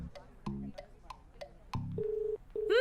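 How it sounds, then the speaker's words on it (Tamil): Phone call tones with short beeps, a low buzzing burst and then steady ringback-like tones, heard closely through the handset amid a comedy scene. "ரிங் போகுது."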